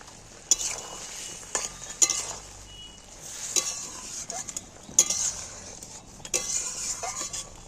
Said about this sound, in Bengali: এইবার আমি এই মাছগুলো তুলে দিচ্ছি।